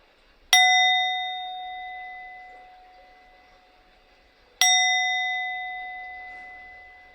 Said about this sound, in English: at the ring of the bell, I'd like you to open up your eyes